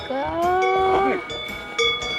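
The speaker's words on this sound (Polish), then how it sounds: "Nie, to jest krowa, no. tylko że taka młoda jeszcze, no." A young cow moos in the mountains, a clear wavering drawn-out call followed by a shorter second moo, with faint bell-like ringing behind.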